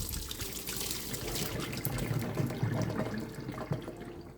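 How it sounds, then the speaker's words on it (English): Boiled spinach being squeezed by hand to wring out excess water, giving a close, steady trickle and dribble of water falling, with no talk. "Now that we boil our spinach, let's get rid of the excess water."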